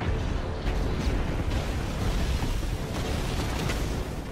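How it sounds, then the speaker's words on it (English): A deep, rumbling explosion in Spider-Man: Miles Morales roars continuously, heavy low-end boom sustained for several seconds without speech. "And explosion."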